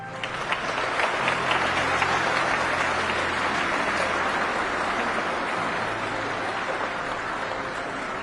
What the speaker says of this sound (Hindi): उस वक्त तुलसी गौड़ा भी मुस्कुरा रही थी और राष्ट्रपति भी।